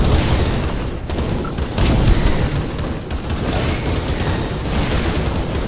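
Booming blast from a bomb in the online action game Skyforge, a loud sustained rumble with a second swell midway, thick low-end roar filling the whole stretch.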